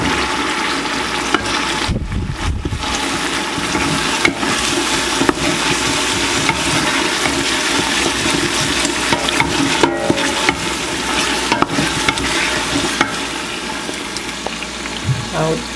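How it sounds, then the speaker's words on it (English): Boiled shrimp and scallop being stirred into a pot of coconut rice sauce, giving a steady wet, churning scrape with occasional knocks against the pot, loud and close throughout. "I'll put in my boiled shrimp and scallop"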